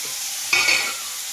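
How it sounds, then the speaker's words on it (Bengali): Washed drumstick flowers with salt and turmeric go into a hot pan and fry with a sudden bright sizzle that swells briefly and then settles to a softer hiss, close by and without speech. "এইভাবে দেখো ভেজে নেবে একটু ঝরঝরে করে"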